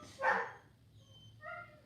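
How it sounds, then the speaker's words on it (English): A dog barks once, then a fainter bark or yip follows about a second later, both somewhat distant against a quiet background. "my dogs are barking again"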